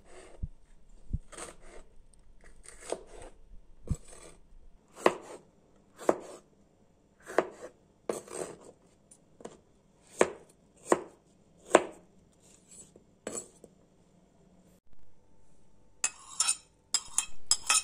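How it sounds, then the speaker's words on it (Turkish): Green and red peppers being chopped with a knife on a cutting board, a steady series of sharp, close knocks spaced roughly a second apart, with no talking. "Yeşil ve kırmızı biberleri doğruyoruz."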